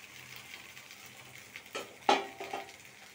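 Rice being stirred into spices fried with salt, garam masala, coriander powder and cumin powder in a pan: soft scraping over a low sizzle, with three sharp spoon clinks against the pan near the end.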